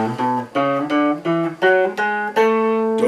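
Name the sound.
major scale played on an instrument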